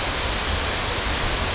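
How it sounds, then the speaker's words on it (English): Halang Jiao Falls on the Bolaven Plateau, a spectacular waterfall viewed from a walkway, gives a steady, dense roar of falling water that stays even and unbroken throughout, with no voices. "Halang Jiao Falls, the highlight attraction of the Waterfall Trail."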